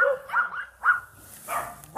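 At a shelter for abandoned dogs in Haenam, a dog lets out a few short, close barks and yips in quick succession, with quiet gaps between them.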